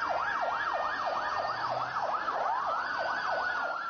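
Ambulance siren wailing in rapid, repeating up-and-down sweeps through the streets of Lebanon after explosions, loud and continuous with a faint road hum beneath and no voices.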